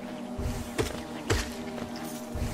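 Buzzing bees swarm near a hive in Hollow Knight, a steady insect drone with low hum and a couple of brief louder swells, no voices.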